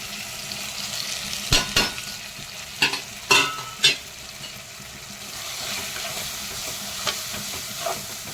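Masala frying in hot oil for a chicken curry, with a steady close sizzle and several sharp stirring scrapes and clacks against the pan in the first half, no talk.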